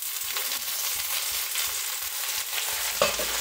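Rice and vegetables stirred in a hot frying pan make a continuous close sizzle with soft scraping movements, ending in a brighter clink of the utensil.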